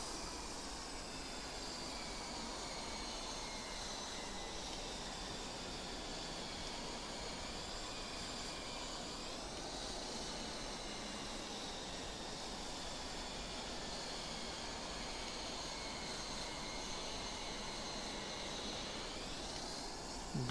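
A Mirage F-1 jet in the DCS flight simulator rolls along on the ground while taxiing, its engine giving a steady, loud, continuous roar with a rising whine near the end and no talk over it.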